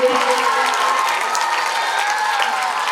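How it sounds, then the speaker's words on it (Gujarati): Loud, dense applause from a crowd welcoming guests before a lamp-lighting ceremony, sustained and close throughout with a faint cheer mixed in. "જોરદાર તાળીઓના ગડગડાટથી આપણા મહેમાનશ્રીઓનું સ્વાગત કરીએ"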